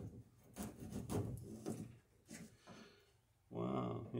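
A small wood chisel cutting gains into wooden sheer strakes on a boat, giving several close, scraping strokes in uneven bursts, with a louder rasping push near the end.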